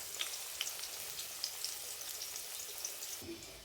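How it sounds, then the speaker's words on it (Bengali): Vegetables fry in a pan on a home stove, giving a faint, steady sizzle with scattered small pops throughout and no talking. "এটা কিন্তু ভেজে নিচ্ছি আমি"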